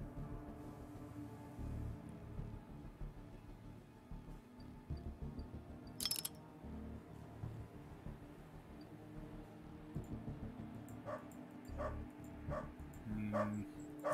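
A dog in the Underrail video game gives a few short barks and yips amid low ambient game sounds, with bursts clustered toward the end, moderately faint.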